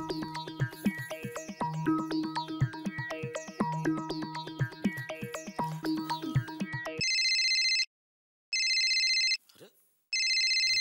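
An electronic telephone rings in a household TV comedy scene, first under busy background music and clatter, then alone in clear repeated bursts separated by short silences.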